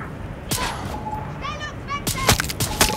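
Gunshots in the video game Far Cry 6, several sharp, loud cracks in two bursts, the later ones closer together, with faint game sounds between them.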